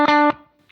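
Dry electric guitar played with no effects pedal: a short, clean sustained chord that is cut off abruptly and decays away, followed by a faint brief scrape.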